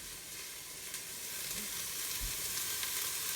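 Onions browning in a pan for vegan chili, giving a steady, close, hissing sizzle throughout with a few faint soft knocks, no talking.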